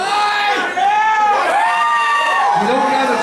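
A wrestling crowd at a falls-count-anywhere match roars with sustained cheering, whoops and children's shouts, loud and close, with voices rising and falling throughout.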